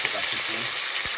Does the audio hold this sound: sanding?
no